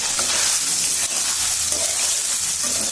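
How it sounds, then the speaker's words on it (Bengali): Soya chunks fry loudly in hot oil, a dense, continuous sizzling hiss close up, with no voices. "এবার সোয়াবিনগুলো দিয়ে দিলাম তেলে।"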